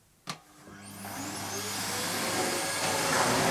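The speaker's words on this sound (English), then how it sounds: "What I will do is lower the suction a bit to see if we can have a happy medium." An AEG Electrolux Powerforce vacuum cleaner, set to lower suction, clicks on and its motor rises into a steady, close, loud whirring roar that keeps building slightly.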